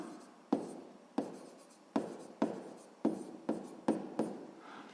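Pen or pencil writing numbers by hand on paper for a sixth-grade maths exercise, heard as a series of about eight sharp, close strokes at a steady rhythm, each followed by a short scratchy trail, with no talking.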